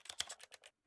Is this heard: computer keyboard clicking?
yes